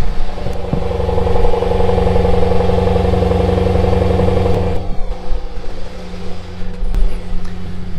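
A 2020 Range Rover Velar SVAutobiography's supercharged 5-liter engine roars loudly and close at a sustained high rev for about five seconds, then drops to a rumbling idle with a brief blip near the end.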